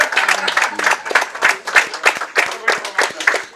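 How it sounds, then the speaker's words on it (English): Crowd at a curling match applauding, a patchy burst of clapping that rises and falls in waves over a few seconds. "Crowd is appropriately applauding the Zankin rink"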